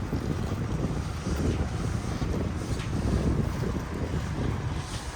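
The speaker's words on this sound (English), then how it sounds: "this windy out here" Strong wind gusting outdoors beside a food truck, a continuous roaring buffet against the microphone that swells and dips without letup, with no talking.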